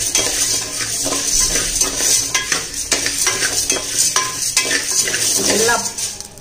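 Cardamom and ajwain sizzle as they are fried and stirred in a pan, with a metal spoon scraping and clinking against the pan in an irregular rhythm over a soft, steady frying hiss, close and clear.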